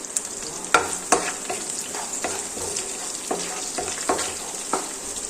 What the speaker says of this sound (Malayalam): അപ്പൊ ആദ്യം തന്നെ നമുക്ക് എടുത്തു വെച്ചേക്കുന്ന പച്ചമുളകും വെളുത്തുള്ളിയും കൂടെ ഒന്ന് വഴറ്റിയെടുക്കും